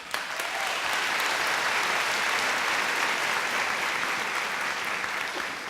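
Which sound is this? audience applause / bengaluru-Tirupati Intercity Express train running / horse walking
audience applause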